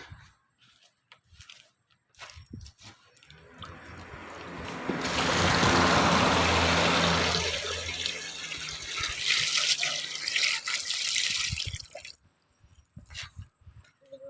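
Water pours in a steady, loud stream for several seconds in the middle, with scattered clatter and drips before and after it.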